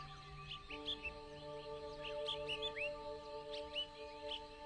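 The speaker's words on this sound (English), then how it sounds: "all you can hear are the sounds of your own footsteps and the birds chirping in the distance" Small birds chirping far off on a mountain near the peak, faint scattered tweets over a steady low hum.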